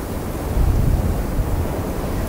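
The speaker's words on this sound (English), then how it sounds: "Wind" Steady outdoor wind buffeting the microphone, a continuous dense low roar with a slight swell in the middle and no other sounds.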